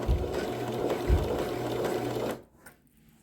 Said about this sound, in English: starting at the top, I'm going to stitch all the way around the perimeter.